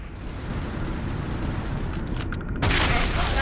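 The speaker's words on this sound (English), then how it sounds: "am I hearing a turret? There's a turret." Rapid turret gunfire in the video game Starfield, a continuous stream of dense booming shots, with a louder, brighter burst of fire surging in over the last second.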